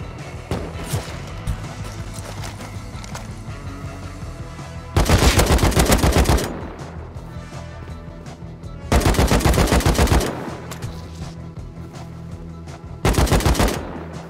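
Automatic gunfire in the survival game Rust, arriving in three loud bursts of rapid shots around a quieter stretch of distant combat noise, with no speech.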